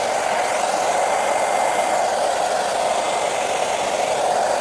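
Heat gun blowing hot air to warm a vinyl decal: a steady, close, loud whooshing roar of the fan runs continuously, with no other sound.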